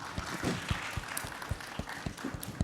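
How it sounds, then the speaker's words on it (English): Applause from a conference audience at a tech innovation event, welcoming panel speakers on stage: a steady patter of claps with individual sharp hits standing out, moderately near and without talk. "give our distinguished panel speakers a round of applause to start their panel"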